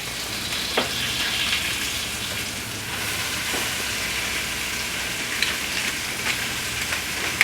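Cabbage frying in a pan gives a loud, steady sizzle and crackle throughout, with a few soft knocks and stirring sounds on top.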